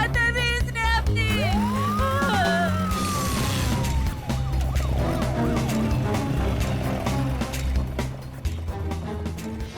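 An ambulance siren wails and sweeps in pitch over a noisy, busy scene with traffic rumble, loud and fairly close, mixed with other commotion.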